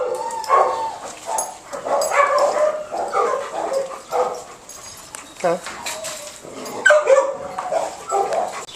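Several dogs being introduced to each other bark, yip and whimper in short bursts at close range, mixed with a person talking throughout.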